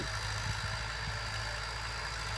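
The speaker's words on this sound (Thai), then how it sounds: "รถไถเพิ่งปั่นเสร็จนะครับ" After tilling a rice field, a tractor engine idles with a low, steady, fairly faint rumble and no voices.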